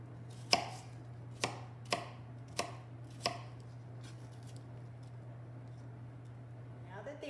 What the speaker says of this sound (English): I cut these in half because it does make it a little bit easier to get them smaller